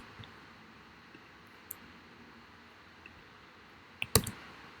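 Computer mouse clicks while working in Blender 3D, a few faint sparse clicks followed by a sharper cluster of louder clicks near the end, close and otherwise quiet.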